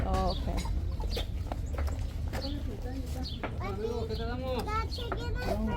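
Chickens clucking at a busy open-air tianguis market, the fowl sounds coming in short bursts amid steady crowd noise, with people talking nearby throughout.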